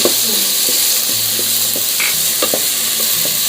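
Onion and garlic sautéing in a pan as a spoon stirs them, a steady sizzle broken by scattered scraping and clinking taps of the utensil against the pan.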